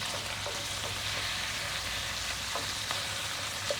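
Bacon fries in a pan for Zuppa Toscana, giving a steady broadband sizzle with small pops and crackles throughout, fairly close and even in level, with no talking.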